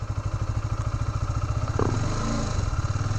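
A motorcycle idling in first gear with a rapid, even engine pulse, then the throttle is opened slightly and the pitch and loudness rise briefly, heard up close with no talking.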